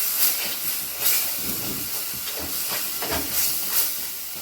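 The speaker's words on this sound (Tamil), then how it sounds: "இது அப்படியே ஒரு நிமிஷம் நல்லா வதக்கலாம்" Tomato, chilli powder and salt sauté in a pan for a dry prawn, brinjal and drumstick kuzhambu, giving a soft continuous hissing sizzle that swells in brief pulses as it is stirred.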